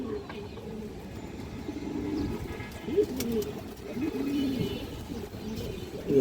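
A large male pigeon with a brown throat coos in low, repeated rolling calls close by, steady over a faint background.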